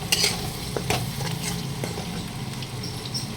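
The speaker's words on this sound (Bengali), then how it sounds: "এই যে আমার এখানে মশলা কষা হয়ে গেছে" Spice paste sautéing in a pan, sizzling softly while a utensil stirs and scrapes in quick irregular strokes, close and fairly quiet.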